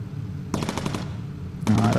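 Bursts of bomber turret machine-gun fire loaded with incendiary rounds in the Bomber Crew video game, aboard an Avro Lancaster: two quick rattling volleys, close and loud, separated by a short pause.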